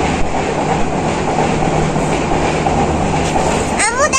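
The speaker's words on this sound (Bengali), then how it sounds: "এই যে ট্রেন যাচ্ছে।" A train passes close by, a loud continuous rumble and clatter of rolling wheels on rails filling the whole stretch, with a brief high squeal near the end.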